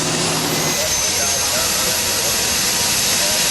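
Twin General Electric T64 turbines roar on the Green Monster modified pulling tractor at an NTPA event, a loud steady jet-like whine filling the whole clip with no break.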